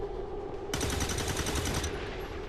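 Video game gunfire on nightmare difficulty, a loud sustained burst of rapid automatic shots lasting about a second, with steady background game ambience before and after.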